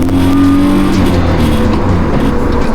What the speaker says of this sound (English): total BMW sound coming out of this thing too. Yeah, it's the intake makes it really noticeable.